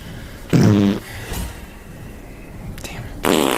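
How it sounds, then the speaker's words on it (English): Fart sound effects from a compilation play in two loud, buzzing blasts, one early and one at the end, separated by a quieter stretch. "this fart compilation that I forgot was over a minute long"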